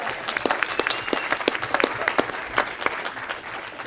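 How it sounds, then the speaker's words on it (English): Audience applause at a town council meeting, a dense patter of many hands clapping with sharp individual claps standing out, steady and moderately loud for the whole stretch. "we can applaud that. Let's applaud that."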